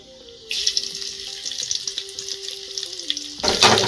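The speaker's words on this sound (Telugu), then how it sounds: "జీలకర్ర ఆవాలు ఒక నాలుగు ఎల్లుల్లిపాయలు వేసుకున్నాను" Cumin, mustard seeds and four garlic cloves hit hot oil for an eggplant and tomato chutney, bursting into a loud, steady crackling sizzle after half a second of quiet, with a sustained tone beneath it and a stronger burst of spitting near the end.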